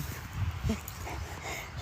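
Livestock guardian dogs on a small hobby farm whimper and yip softly in a brief, faint burst of short whines close by.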